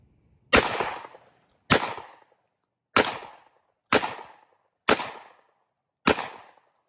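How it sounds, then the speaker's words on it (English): Six sharp shotgun blasts at a run-and-gun shooting match, spaced roughly a second apart, each a loud crack with a decaying echoing tail, aimed at clay and steel targets. "You got 5 clays and then 1 steel. You can shoot them all with your shotgun."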